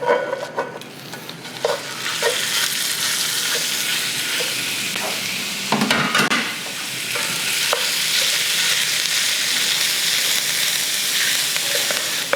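Ground beef sizzles and fries loudly in a hot skillet slicked with neutral oil, a steady broadband crackle running throughout, with occasional spoon scrapes and stirring knocks, and no talking.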